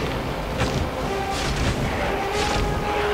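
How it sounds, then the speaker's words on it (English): Wooden crate being smashed apart in the video game God of War, heavy thudding crashes and breaking impacts that repeat at intervals over dense, loud battle noise. "Oh crap, they're destroying the crate."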